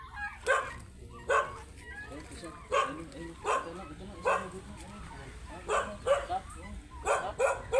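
Sharp, repeated dog barks at irregular intervals at people digging cassava, mixed with people chatting nearby.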